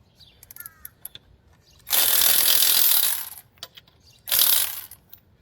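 A new power ratchet tool zips off the lug nuts of a car tire that has already been loosened with a four-way wrench, in two loud bursts of about one and a half seconds and one second, separated by faint clicks.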